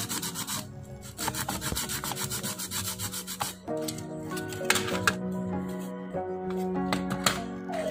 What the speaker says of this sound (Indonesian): saya rapikan menggunakan cutter seperti ini dan saya amplas